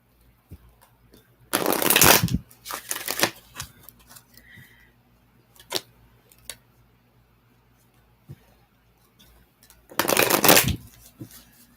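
An oracle card deck is shuffled in two loud riffling bursts, with scattered soft card taps and handling clicks in between.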